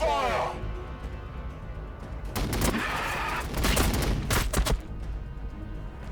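Heavy volleys of gunfire ring out in the Warhammer 40,000 strategy game Battlesector, with dense sustained bursts and booming hits layered under game voices.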